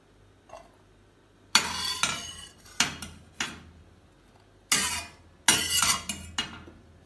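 Moong sprout salad with broccoli and mushroom scooped with a metal spoon and moved into a bowl, giving a series of close, crisp clinks and scrapes in irregular bursts with short pauses between them.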